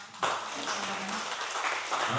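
A short burst of indoor audience applause at an Indonesian community event, a steady wash of clapping that starts abruptly and holds at moderate level for a couple of seconds.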